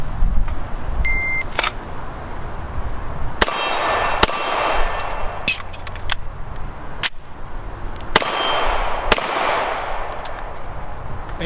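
A CZ P-09F Nocturne handgun being reloaded, its magazine dropping free: a series of sharp, close metallic clangs and clicks spaced across several seconds over light room noise, with no talking.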